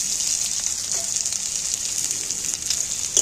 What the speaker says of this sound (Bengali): এইবার আমি পেঁয়াজগুলো তেলের মধ্যে তুলে দিচ্ছি